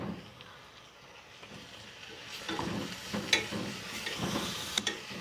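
Onions, green chili and ginger garlic paste fry in a pressure cooker for mutton biryani, a soft steady sizzle that grows louder with spoon-stirring scrapes and clinks, close and without talking.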